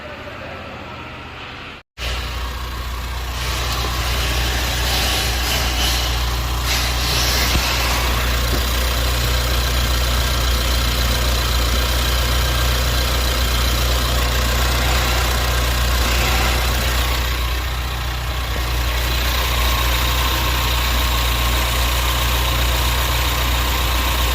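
A 2021 Ford Mustang 2.3L EcoBoost with a freshly resealed valve cover starts and settles into a steady, close idle that runs alone for over twenty seconds.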